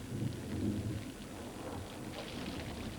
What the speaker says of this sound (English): the thunder and torrential rains that invade the chapels and drench the gargoyles